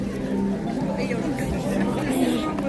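A protest crowd chatters outside the old convent in Castleblaney, with a steady outdoor babble of many overlapping voices at close to middling distance that holds level the whole time.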